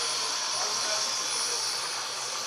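An Air-Evac Life Team medical helicopter on the football field at Edwards County High School in Albion gives off a loud, steady turbine whine and rotor roar that stays constant and close throughout.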